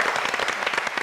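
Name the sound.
studio audience applause on a TV show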